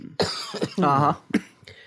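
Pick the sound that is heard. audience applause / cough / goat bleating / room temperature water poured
cough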